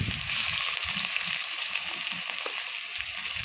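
Onion hitting hot oil gives a bright, steady sizzle, close and continuous with faint stirring beneath it.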